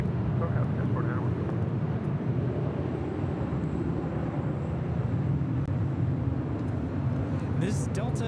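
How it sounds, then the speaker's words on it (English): A Delta A321 airliner takes off at LAX, a broad steady jet roar heard from a distance, low and continuous over the whole stretch with faint background noise. "This is Delta A321 taking off to Detroit, flight 708."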